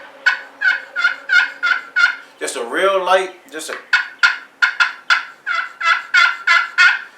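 A wild turkey gobbler lets out one loud, rattling gobble amid a steady run of sharp, evenly spaced yelping calls, with a soft voice briefly speaking.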